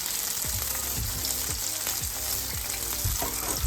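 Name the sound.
fried onion mixed and frying in pan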